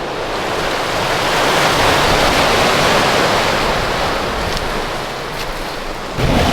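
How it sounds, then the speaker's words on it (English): Ocean waves crash over a rock along the coast at Innes National Park on the Yorke Peninsula, a loud, steady roar of surf mixed with wind noise, with a fresh surge building near the end and no voices. "The waves just crash over that rock there."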